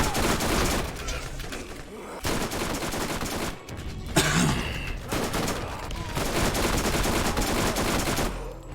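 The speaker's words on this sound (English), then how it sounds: "Oh, no, he's got a machine gun" An enemy in the video game Borderlands fires a machine gun in dense, rattling bursts broken by short pauses, loud and close over busy game noise.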